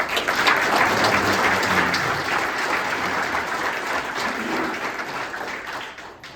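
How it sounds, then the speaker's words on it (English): A crowd at a forestry talk gives a sustained round of applause, dense and fairly loud at first, then gradually thinning and fading toward the end. "I'd like to just give her a round of applause."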